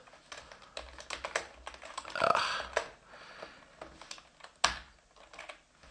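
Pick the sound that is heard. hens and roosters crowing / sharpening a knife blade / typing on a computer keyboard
typing on a computer keyboard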